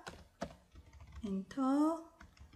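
Keys tapped on a computer keyboard, including the Shift key, while typing in a word processor: a few scattered, sharp clicks, with a voice talking partway through.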